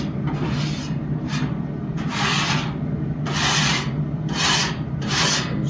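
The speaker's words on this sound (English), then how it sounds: "Scrape the excess off." A metal scraper rasps across pellet grill grates, knocking off leftover residue in about five rough, repeated strokes. The strokes are close and steady, with a constant hum of the grill beneath them and no talking.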